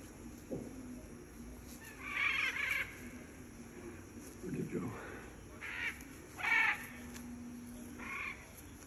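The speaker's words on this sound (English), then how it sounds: "Those are some happy birds" Macaw parrots calling outdoors on uneven ground, several harsh squawks in short bursts at moderate distance, spaced irregularly over faint background noise.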